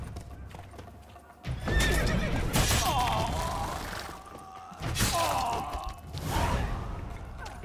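Horses whinny and snort up close in the video game The Witcher 3: Blood and Wine, with hooves shifting and clopping throughout and several loud neighs rising over the rumble.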